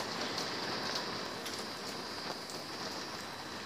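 Steady rain hisses throughout in the video game Five Nights at Candy's, a dense, even patter of drops on a surface with a few slightly louder splashes, no voices.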